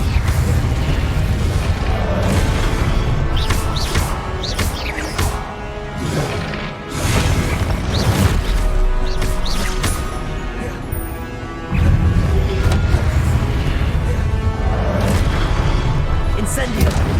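Incendio fire spells and Confringo blasts in Hogwarts Legacy burst again and again in a loud, dense barrage of booms and crackling impacts, layered over constant game noise with voices shouting throughout.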